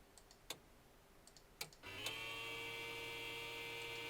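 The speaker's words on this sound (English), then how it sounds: "Let's just bring the fuel pump on." Electric fuel pump of a Cessna 172 in a flight simulator switched on after a few quiet clicks, starting a steady low electrical hum with a faint whine that continues to the end.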